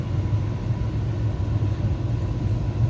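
Interior of the Sealdah–Balurghat express pulling out of Naihati station, a steady low rumble and engine drone filling the carriage at moderate loudness with no voices.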